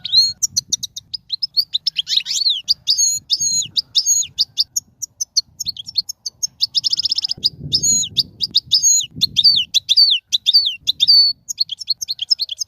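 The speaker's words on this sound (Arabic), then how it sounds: "خامسا. طائر الحسون." A goldfinch sings rapid, high twittering and liquid trills that tumble on without break, close and bright, with some soft low rustling underneath.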